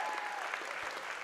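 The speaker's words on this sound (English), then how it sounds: "Give these outstanding student athletes That's awesome. a round of applause" Applause for outstanding student athletes at the 1B District Championships, a brief burst of crowd clapping heard from a distance, soft and steady.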